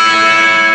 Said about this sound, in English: One of the organ licks is modified by the electric guitar to sound like this.